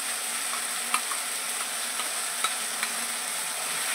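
Spice masala paste fries in a pan with a soft, steady sizzle, broken by a few light scrapes of a spoon stirring it, fairly quiet and without voices.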